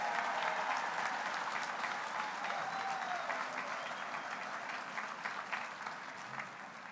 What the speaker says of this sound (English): giving a big round of applause to all of the amazing librarians